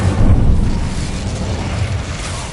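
An Incendio fire spell blasts in Hogwarts Legacy, a loud booming whoosh that swells at once and then slowly fades into a rumbling tail.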